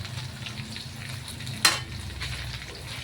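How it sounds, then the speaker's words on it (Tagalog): Bananas frying in a pan, a steady low sizzle throughout with one brief sharp clink partway through, close and fairly quiet. "may piniprito pang saging doon"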